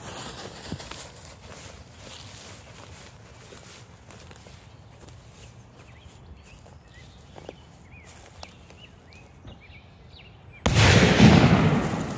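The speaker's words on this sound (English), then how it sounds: "That was a tremendous explosion, guys, but it is nothing compared to the canister shell." Fireworks set off underground: after a long stretch of quiet outdoor rustling and small knocks, a sudden loud, broad blast erupts and its rushing roar carries on to the end.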